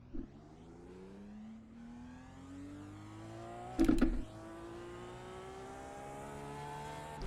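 Indy race car engine in a racing video game, a thin synthetic whine rising steadily in pitch as it accelerates, quiet and continuous, with a brief louder click-like burst near the middle.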